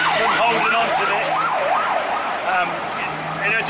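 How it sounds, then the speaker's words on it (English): Busy street traffic with a wailing siren rising and falling over a steady roar of passing cars, loud and continuous, with faint talk underneath. "the noise that you can hear on the street with the cars and the sirens going"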